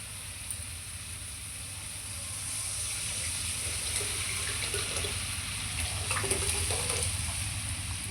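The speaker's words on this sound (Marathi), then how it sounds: "आपण पाणी घालू शकतो" Water poured into a pot of moong dal amti cooking with oil, tomato and salt, a soft continuous pouring and bubbling hiss over steady background hum, fairly quiet and without voices.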